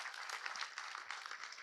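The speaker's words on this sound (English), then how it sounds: "Give her a big round of applause." Lecture hall audience at REVA University clapping for a student, a brief, faint but steady patter of many hands heard from across the room.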